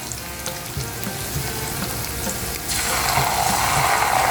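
Ginger garlic paste hits a hot pan of tomatoes and sizzles, a steady crackling fry that jumps louder and brighter partway through as the paste is added, close and without talk.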